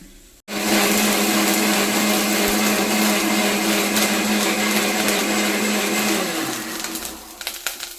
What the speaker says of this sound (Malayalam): നമുക്ക് മിക്സിന്റെ ചാറിലൊന്നും അങ്ങോട്ട് അടിച്ചെടുക്കാം